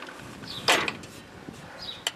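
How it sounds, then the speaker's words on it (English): A Toro mower deck pulley turned by hand to walk the belt on, giving a few short, close mechanical creaks and clicks against a quiet background. "you should be able to just turn this pulley here and walk the belt on"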